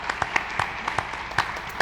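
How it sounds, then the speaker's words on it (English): An audience at a business forum gives a short round of applause, a few faint, sparse claps spaced unevenly over a couple of seconds. "let's give them a clap"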